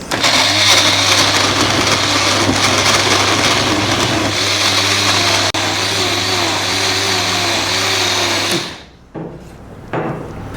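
Kitchen mixer grinder grinding small shallots, a loud steady motor whine with rattling blades for about eight and a half seconds, then cutting off abruptly into quiet with a few faint knocks.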